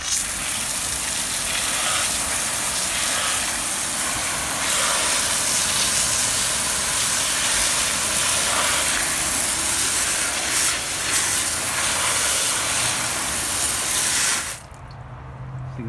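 A water hose sprays a car wheel coated with graphene coating, a loud, continuous rushing hiss that runs nearly the whole time, then cuts off abruptly just before the end.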